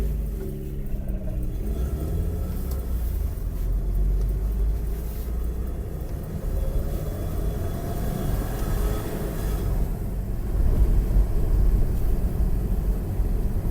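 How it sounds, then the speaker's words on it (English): A 2000 HF classic car cruising on the open road, its steady low engine and road rumble continuous throughout, swelling slightly louder near the end, with no voices. "Car just needs to be driven. It needs to be out and about, a longer drive."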